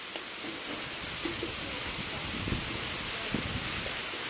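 Heavy rain driven by wind, a dense, steady hiss that stays loud and even throughout with faint scattered patters near the ground.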